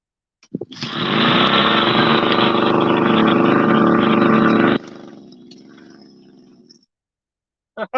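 A small go-ped scooter engine revs loud and steady at close range for about four seconds, then drops abruptly to a lower idle that fades out, with a brief burst at the very end.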